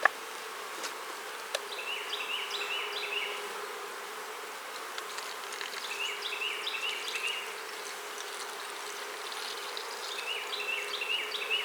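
A steady, dense drone of many honey bees buzzing close by in a cell-builder colony, continuous throughout with faint higher chirps in the background.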